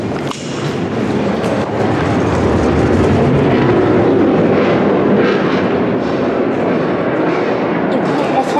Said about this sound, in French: c'est un avion de chasse qui vient de passer